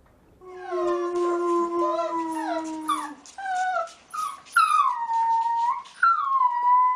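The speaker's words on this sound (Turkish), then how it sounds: "Yavru kurtlara ulumayı öğretti." A wolf pup howls in long wavering tones, joined by higher overlapping howls that break into yips and rising wails, close and loud with no talk.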